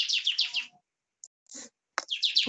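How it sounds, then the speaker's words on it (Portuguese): A small bird sings in quick bursts of bright, close chirps coming through a microphone, with a short pause in the middle before the tweeting resumes. "Tá saindo barulho aí de um passarinho cantando."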